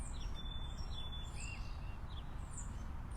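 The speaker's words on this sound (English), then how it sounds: "notice our little entourage here with all the birds" Birds chirp outdoors on an open field, with thin, scattered calls sounding fairly distant over a steady, loud wash of wind-like ambient noise.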